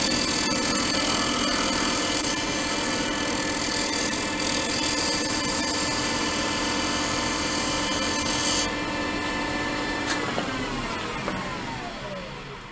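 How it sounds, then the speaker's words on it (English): A wood lathe spins a decorative turned box while a roughing gouge trues up a wobble in the workpiece, giving a steady loud motor whir with rough cutting noise that drops off sharply near the end. "I'll use the roughing gouge to take that little wobble out of it."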